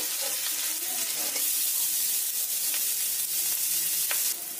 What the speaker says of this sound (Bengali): ওই তেলের মধ্যে দিয়ে দেব দুটো বড় সাইজের পেঁয়াজ কুচিয়ে রেখেছিলাম, সেটা দিয়ে দেব।